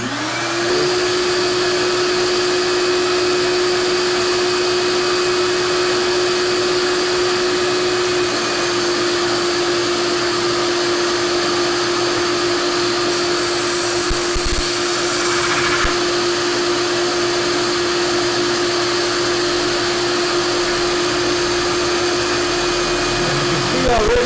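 A shop vac with a burned-out, bypassed switch runs steadily as a loud, close, continuous whining drone for the whole stretch, collecting dust while slate tile edges are ground.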